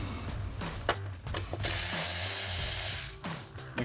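A ratchet fitted with an 8mm socket loosens the coil pack bolts on a Ford F-150 with a 5.0L Coyote engine. Quick, close clicking comes in short bursts with brief pauses and no speech.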